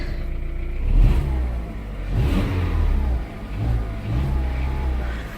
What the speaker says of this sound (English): but he gave it a few revs.